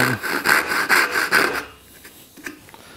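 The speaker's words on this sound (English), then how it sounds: "rather than cutting the ends off with a chisel, we're just going to do it with the saw right here" A hand saw cuts wood for hand-cut dovetail joints with quick, rhythmic rasping strokes up close, then stops and leaves a near-silent pause with a faint knock.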